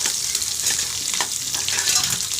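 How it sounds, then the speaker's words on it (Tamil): Onion and garlic sautéing in oil for a radish leaf stir-fry, a steady close sizzle and crackle with faint stirring, no talk over it. "வெங்காயம் பின்ன தோலோடு கட்டி வச்சுட்டு பூண்டு இது ரெண்டையும் சேர்த்து கொஞ்சம் நல்லா வதக்கிடணும்"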